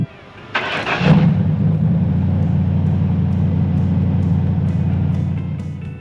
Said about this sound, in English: everybody likes to hear the truck start up